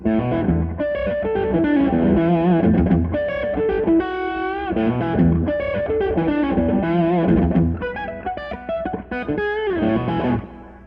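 Distorted electric guitar playing a fast lick that mixes ringing harmonics with scale tones, loud and continuous with effects, played alone for about ten seconds.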